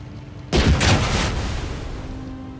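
A single sharp gunshot rings out in the WWII strategy game Headquarters: WWII, loud and close, with a broad blast that decays slowly over about two seconds.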